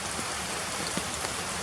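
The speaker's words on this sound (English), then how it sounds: "You can hear it. The rain is really pouring in there." Heavy rain pours down in a steady, dense hiss, an unbroken wash of drops with a few slightly louder spatters, and no voices.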